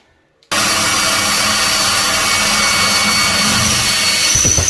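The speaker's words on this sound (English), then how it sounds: "I already drilled my holes" A power drill runs continuously, boring mounting holes for a curved shower rod in a bathroom; loud, steady whine starting abruptly after a brief quiet moment and holding without pause.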